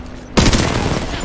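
Burst of gunfire in the Apex Legends battle royale game, kicking in abruptly after a brief quiet moment and continuing as loud, dense rapid shots for the rest of the moment.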